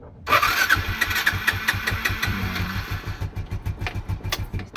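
Suzuki Smash motorcycle engine cranking on its electric starter after the contacts were cleaned, catching and settling into a steady, close, loud idle with a regular pulsing beat.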